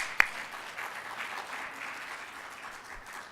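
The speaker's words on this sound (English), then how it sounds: "Let's give him another round of applause." Applause from a forum audience, a sharp single clap at the start followed by steady, fairly soft and even clapping that gradually tapers.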